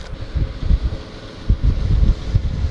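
Gusting blizzard wind buffeting a car at a winter camp, a loud low rumbling roar that surges and eases in irregular waves throughout.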